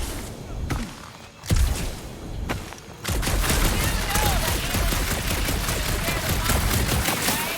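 Bursts of gunfire from Guardians of the Galaxy: a few sharp shots over the first three seconds, then sustained rapid fire runs loud and dense to the end.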